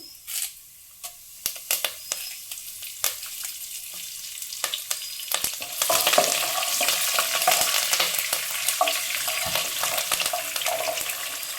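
Chana dal, urad dal and curry leaves hit hot oil, starting with scattered sharp pops and crackles before swelling into a dense, continuous sizzle with stirring, close and fairly loud, no one talking.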